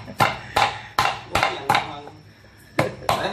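A hammer chops through large snake bones on a hard surface in sharp, evenly spaced heavy strikes, about seven loud close blows with a short gap before the last two.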